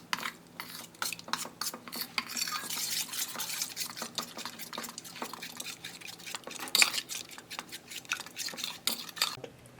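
A spoon stirs a flour and water slurry for cutlets in a bowl, making soft, repeated wet clinks and scrapes against the dish at a steady rhythm, close by.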